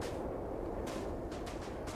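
Explosion in the Starfield: Shattered Space video game, a dense low rumbling burst with a couple of sharper cracks, loud and close, with no talking.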